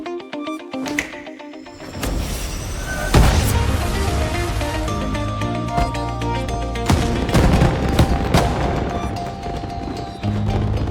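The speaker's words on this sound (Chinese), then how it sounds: "最后的烟花秀不错吧" A fireworks show with rapid crackling bursts and sharp bangs over a loud musical score, dense and sustained, with occasional heavier booms.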